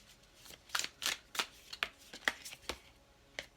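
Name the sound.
shuffling oracle cards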